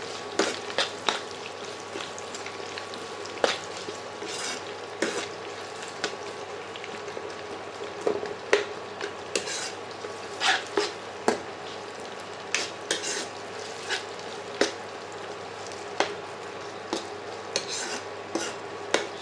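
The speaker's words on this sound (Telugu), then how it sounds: "సాంబార్ ఆనియన్స్, చిల్లీస్ అన్నీ వేసుకుని ఫ్రై చేసుకోవాలన్నమాట బాగా" Sambar onions and chillies frying in a pan for gongura pulao, a soft continuous sizzle broken by regular sharp scrapes and clinks of a ladle stirring, with no talk.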